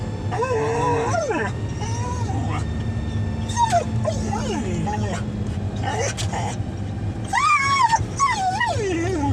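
A dog whimpers and yips in short rising whines, close by, repeated through the stretch, under a steady low engine-like hum and some talking.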